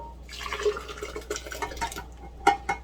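A cinnamon drink is poured into a container, a soft continuous liquid trickle with a few brighter drips and splashes near the end, close and moderately quiet.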